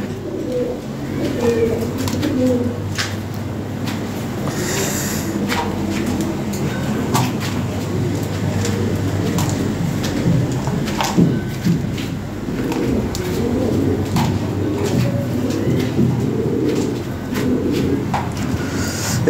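Lahori pigeons coo repeatedly and close by, their soft throaty calls overlapping in a steady murmur with faint rustling behind them.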